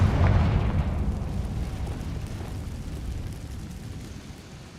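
The Confringo spell explodes in Hogwarts Legacy with one loud, deep boom that rolls out and slowly fades into a long, low rumble, with no voices over it.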